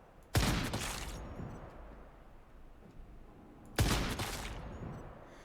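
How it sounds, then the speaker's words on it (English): Two loud, sharp sniper rifle shots in the video game Once Human, a few seconds apart, each with a booming crack and a fading tail over a low ambient background, with no talking. "So I'm going to switch to the sniper rifle."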